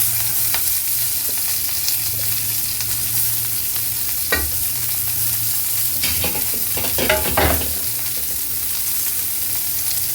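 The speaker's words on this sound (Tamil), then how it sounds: "சேர்த்து நல்லா எல்லாத்தையும் வதக்கி விடுங்க." Constant sizzling of onions sautéing in a hot pan for sambar, with a spoon scraping and stirring in a few bursts, loud and close.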